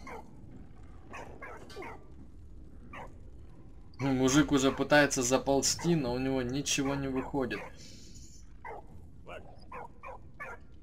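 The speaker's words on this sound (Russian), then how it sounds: "Ну, сразу появилась собака наша" A dog barks in a run of loud, rapid yelps and whimpers in the World War game Valiant Hearts, with quieter game sounds around it and someone talking before and after.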